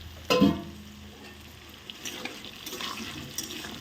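Cubed potato and taro frying together in a pan of oil, a soft steady sizzle with a sharp clatter of pieces dropped in near the start, then light stirring scrapes.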